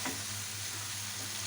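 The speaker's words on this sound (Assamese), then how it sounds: "এনেকৈ আমি 2 মিনিট ধুনীয়াকৈ লৰাই ভাজিম, যাতে এইটো পিঁয়াজ বিলাহী ভজাৰ মিশ্ৰণটো ধুনীয়াকৈ বেঙেনাত লাগি ধৰে।" Onion and tomato mixture being stir-fried with roasted eggplant for baingan bharta, a steady close sizzle and crackle of oil with light stirring scrapes throughout, no talking.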